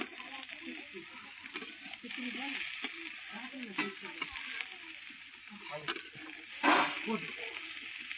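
A potato vegetable curry cooks in a pan at home, giving a low, steady sizzle and frying crackle with occasional stirring scrapes and clinks, fairly quiet throughout.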